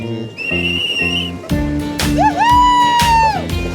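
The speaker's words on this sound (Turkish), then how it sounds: "ağzında düdüğüyle ya" Shrill whistle tones sound in bursts, some sliding up and down in pitch, over a rhythmic background of music.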